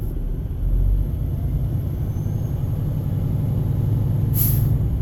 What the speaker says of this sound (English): I'm going to build up my primary and secondary air pressure gauges to governor cutoff between 100 to 125 psi